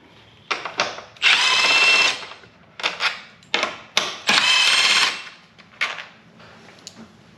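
A power drill spins out 10mm bolts on the intake of a JL Wrangler Rubicon during a Banks Ram-Air intake install. Several loud, close whirring bursts of varying length come with short pauses and a click between them.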